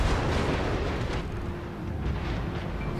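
Battleship main guns booming in World of Warships, a heavy rumbling salvo that rolls on as a loud, low roar for a few seconds without any voices.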